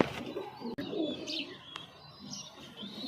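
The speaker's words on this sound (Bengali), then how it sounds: "এগুলো উড়ান পায়রা, বেশ ভালো ডম পায়রাগুলো" Flying pigeons in a home loft coo softly and chirp, low murmuring calls mixed with faint higher twitters in a busy background.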